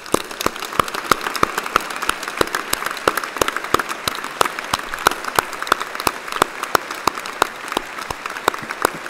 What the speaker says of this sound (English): join me in a round of applause to say thank you to those that have helped you reach this important